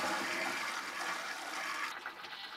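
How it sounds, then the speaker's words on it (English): Water rushes through RV plumbing just after the supply is turned on, a steady hissing flow that stays loud throughout and fades slightly near the end. "I'm gonna turn my water on."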